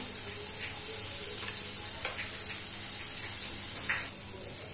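Cut boiled potatoes roast in a masala and tomato mixture for aloo chana masala, giving a soft continuous sizzle with occasional light stirring scrapes.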